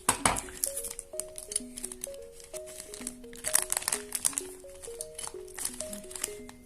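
Crinkling plastic of a Lego Minifigures Disney Series 2 blind bag being torn open and handled close up, with steady rustles over light background music.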